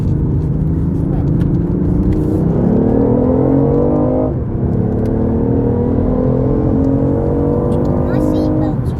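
BMW i8 hybrid sports car accelerating hard on a motorway, heard from inside the cabin as a loud whirring engine note that climbs steadily in pitch, drops at a gear change, then climbs again, with people talking over it.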